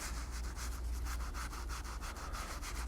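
Tan highlight finish being rubbed by hand into leather holster parts, a steady, close scratchy rubbing in quick repeated strokes over a low background hum, with no talking.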